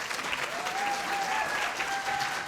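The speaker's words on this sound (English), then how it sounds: "Please give Connie a round of applause." Audience applauding a volunteer at a recognition luncheon: a short burst of steady, moderately faint clapping from a seated crowd, with a brief whistle-like tone over it.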